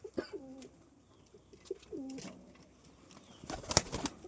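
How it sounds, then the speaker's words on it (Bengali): Tumbler pigeons cooing close by in soft repeated low coos, followed by a brief burst of wing flapping or rustling near the end. "এই দেখো দুটোই কিন্তু একদম পুরো হাতবাজির পায়রা।"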